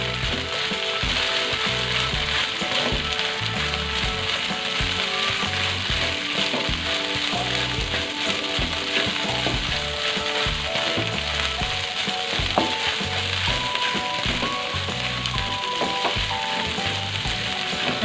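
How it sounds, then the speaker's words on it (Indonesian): Rice stirred into frying spices in a hot wok for nasi goreng mawut, a continuous loud sizzle with scraping and clinking of the spatula throughout, close up and without talk. "Sekarang aku mau masukin nasi. Nah ini mau aku aduk dulu sampai rata."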